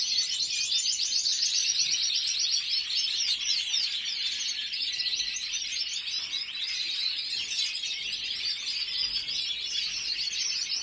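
An oro molido canary sings continuously, a bright, rapid stream of high trills and chirping warbles that stays loud and close throughout, with no talking.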